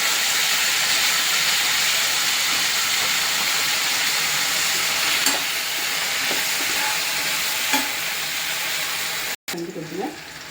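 Soy sauce hits a hot pan of paneer baby corn manchurian and sets off a loud, dense sizzle that runs steadily for most of the clip. The sizzle cuts out abruptly near the end, then resumes with faint clatter.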